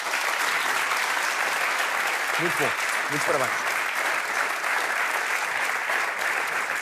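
An audience applauds a singer after his version of a song, sustained clapping from many hands throughout while someone briefly speaks over it.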